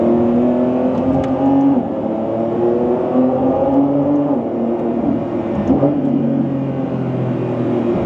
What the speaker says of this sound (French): Le V12, on l'entend bien.